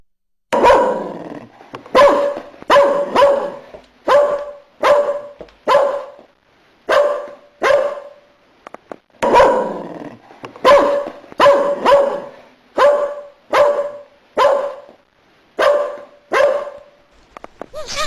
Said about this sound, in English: Why is Scamp barking so much?